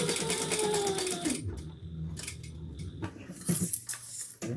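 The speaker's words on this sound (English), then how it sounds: "let's top stitch" A sewing machine topstitches a sling pack, a dense rapid stitching burst lasting just over a second, then quieter intermittent clicks and short bursts of handling noise.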